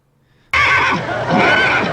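A horse from the Mister Ed sitcom gives a loud, sustained whinny that bursts in suddenly after a short silence and stays strong throughout, with a wavering pitch.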